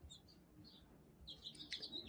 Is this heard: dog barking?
no